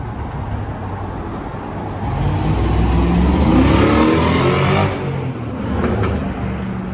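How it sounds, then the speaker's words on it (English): Cars accelerating and racing along a busy Moscow street near Red Square, a continuous roar of engines revving that swells louder in the middle and then eases, with steady traffic noise throughout. "in Moscow so many of these cars, and they are really racing"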